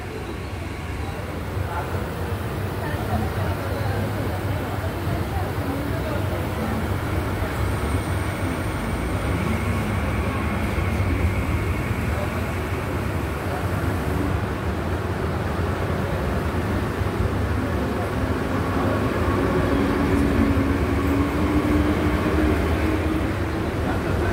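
A Virar-bound fast local train pulls in at platform 3 on a Mumbai suburban line, giving a loud, steady rumble and rattle of rolling carriages that holds throughout, with faint murmur in the background.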